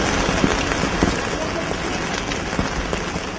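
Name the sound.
morning rain in Srinagar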